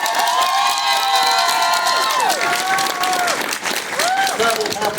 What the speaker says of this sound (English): I want you all to give him a round of applause